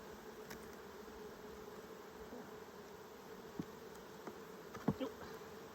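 Honeybees in an open, queenless hive hum in a steady close buzz throughout, with a few soft knocks and clicks of hive handling near the end.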